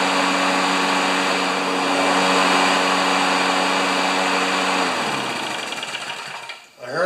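A John Deere 14PZ push mower with an intermittent-start problem runs at a steady high buzz for about five seconds, then the engine winds down and stops near the end.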